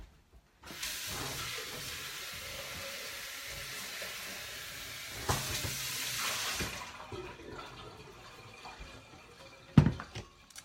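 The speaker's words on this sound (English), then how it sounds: "I'm just gonna rinse this out" Tap water runs into a kitchen sink as a container is rinsed, a steady close gush with a brief louder splash midway before the flow stops.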